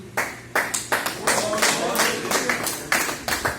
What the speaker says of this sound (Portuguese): As palmas louvam nosso Senhor.